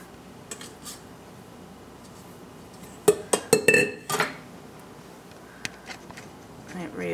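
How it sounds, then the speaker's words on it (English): Sticky vegan white bread dough tipped out of a bowl onto a floured work surface. A brief cluster of clinks and knocks from the bowl sounds over a quiet room, with a few soft taps afterward. "And we're going to dump the dough out."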